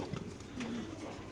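Racing pigeon at a pigeon sale giving a soft, low coo, faint and brief against a background murmur.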